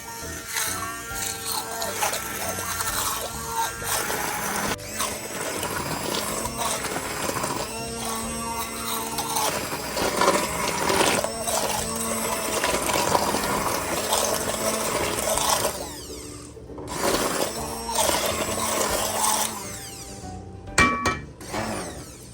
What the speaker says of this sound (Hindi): मेरे पास हैंड मिक्सर है, उससे मैं इसको थोड़ा थोड़ा सा करूँगी